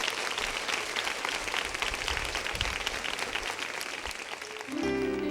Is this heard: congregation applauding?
yes